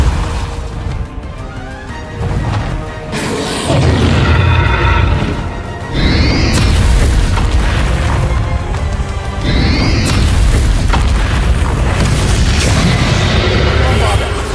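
Explosive Confringo and Bombarda spells cast in Hogwarts Legacy: repeated loud blasts and crashing bursts over dense, continuous combat noise, with strong impacts near the middle and later on.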